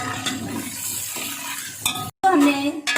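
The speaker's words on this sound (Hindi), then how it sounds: "अच्छी तरह से फ्राई कर दिया और इसको मज़ीद फ्राई करेंगे अच्छी तरह से" Fish frying in ghee in a pan, a loud close sizzle with stirring scrapes and clinks of utensil against the pan, with a momentary break before the frying noise resumes.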